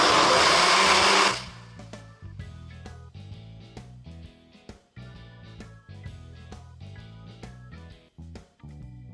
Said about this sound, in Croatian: Kad smo napunili blender, kliknemo na 5. opciju koja je shaker za shakerati i pustimo ga da radi svoj posao.